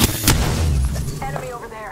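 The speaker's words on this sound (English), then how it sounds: "Shooting." Gunfire in the video game Apex Legends: a couple of sharp, loud shots burst out at the start and ring off, followed by fainter tonal game sounds.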